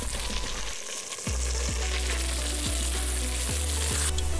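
Pork and veal sizzle steadily in hot rendered pork fat with onion, with a few soft clinks of a utensil stirring the pot at regular intervals, close and fairly loud.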